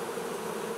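A honeybee fans her wings at a safety-cone swarm, giving a steady, close, continuous buzz with no pauses.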